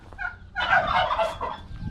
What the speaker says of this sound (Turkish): kırmızı hindilerimiz vardı biliyorsunuz burada